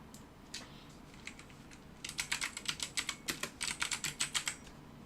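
Typing on a computer keyboard, a few scattered key taps followed by a quick, steady run of crisp clicks, close and moderately quiet, with no speech.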